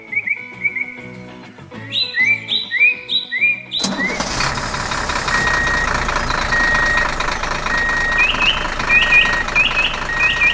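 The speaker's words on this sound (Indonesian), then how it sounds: "Traktor besar sedang berjalan melewati rumput." An animated large tractor drives across grass, its steady engine rumble and broad roar beginning partway through after a run of light, bouncy beeps, with a few high chirps near the end.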